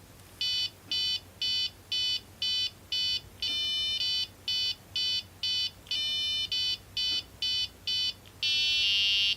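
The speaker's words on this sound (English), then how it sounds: "This time we've also added a buzzer in for some sound effects." A buzzer wired into a breadboard game gives a string of short electronic beeps in an even rhythm, with a few longer tones among them and a sustained final tone, loud and alone.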